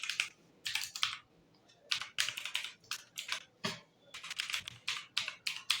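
Close keystrokes on a computer keyboard as a name and email are typed into a Mailchimp signup form, coming in quick bursts of rapid clicks separated by short pauses, with no speech.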